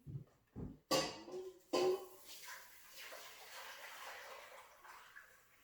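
A few knocks and clatters, then a soft, steady pour of water splashing into a pot, fairly quiet and close.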